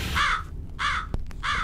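Crows caw three times in an even rhythm, moderately loud and close, with a single sharp knock between the second and third calls, in the horror game Jisatsu by Chilla's Art.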